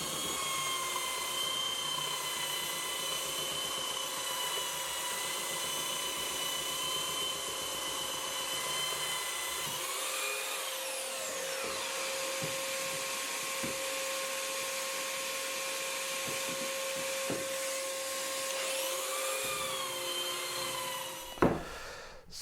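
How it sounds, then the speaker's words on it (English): A belt sander fitted with a fresh 80 grit belt runs across varnished wooden table slats, giving a steady high whine with an abrasive rasp, briefly dipping and recovering as it moves, then a sharp knock near the end. "I think I'll use a belt sander. I put on a new 80 grit belt"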